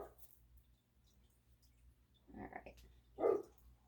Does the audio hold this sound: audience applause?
no